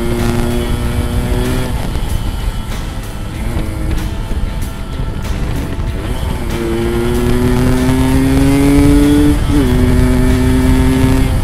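A standard Yamaha RX King two-stroke motorcycle climbs a mountain road, its engine loud and close, droning steadily and then revving up through gears with rising pitch and short gaps between shifts.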